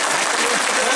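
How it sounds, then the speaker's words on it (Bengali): An audience claps loudly at a large devotional festival celebrating Sree Sree Thakur Anukulchandra's 137th birth anniversary, a dense, continuous roar of many hands throughout. "কত জোরে হাততালি দিতে পারেন দেখি"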